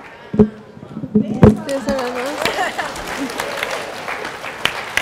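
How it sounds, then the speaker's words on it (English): Audience applause and cheering at a Boston gathering of Latina leaders, rising in bursts with whoops and voices mixed in, fairly close and lively throughout. "And that's the round of applause for victory."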